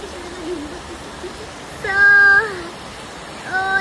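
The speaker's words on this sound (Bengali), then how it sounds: "দেখেন দেখেন অনেক বৃষ্টি" Heavy rain pours down as a dense, even hiss. Brief voice-like tones rise over it twice toward the end.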